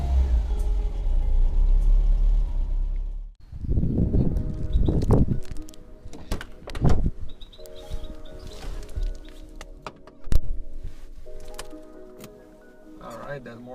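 A 1991 Skoda Favorit cranks briefly on a cold morning and fires right up, the engine catching with a surge and then idling unevenly, with clicks and clunks from the cabin and a voice talking over it.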